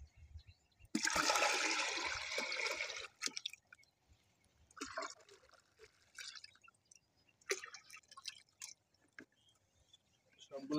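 Liquid mustard cake fertilizer poured into plant containers in a vegetable garden, a steady splashing gush for about two seconds followed by shorter intermittent pours and drips, close by.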